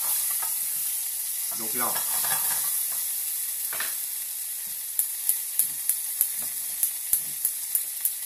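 Piperade with salmon sizzles and caramelizes in a hot pan, a steady frying hiss with stirring scrapes early on, then a series of regular sharp ticks toward the end; someone speaks briefly in French.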